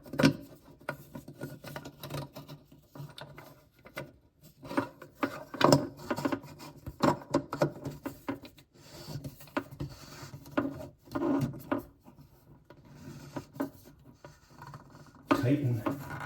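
Handheld plumbing tool scraping and rasping against a bathroom faucet nut under the sink, irregular metallic-wood rubbing in short bursts over about sixteen seconds, close and fairly quiet with brief pauses.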